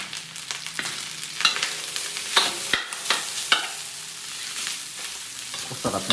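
Spicy garlic fried rice sizzles and crackles in a hot pan as soy sauce is poured in, with repeated scraping stir strokes over a steady frying hiss.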